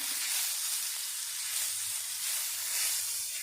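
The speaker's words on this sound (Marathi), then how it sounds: "आता इथे मी एक टमॅटो टाकून घेते" Tomato softening in a hot pan of roasted spices for a stuffed brinjal masala curry, giving a steady, close, high-pitched sizzle that holds evenly throughout with no talking.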